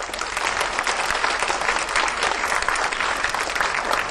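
Sustained applause from an audience honoring teachers and caretakers at a youth event, a dense steady wash of many hands clapping at even loudness throughout, with no speech over it.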